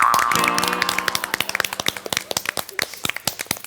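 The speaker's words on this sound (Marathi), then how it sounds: "टाळ्या जोरदार." An audience at a Marathi comedy show breaks into applause, the clapping rising as a dense burst of sharp claps after a brief tonal boing, continuing loudly to the end.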